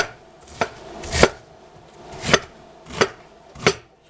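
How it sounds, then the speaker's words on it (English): A knife chops cabbage on a cutting board in a home kitchen: five or six sharp, separate chops at an uneven pace, close and clear, with no talking. "Chopping the cabbage right up."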